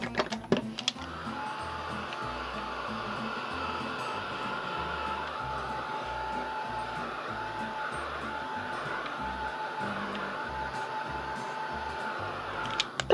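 A hair dryer blows steadily on paper scraps for a junk journal, a continuous close, loud whirring hum that holds evenly for over ten seconds with brief clatter at the start and end.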